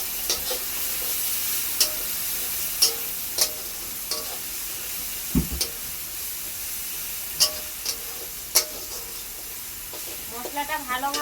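Kashmiri chili powder sizzling in hot oil as a spoon stirs it, with a steady frying hiss broken by scattered scrapes and taps of the spoon against the pan, close up, and bubbling near the end.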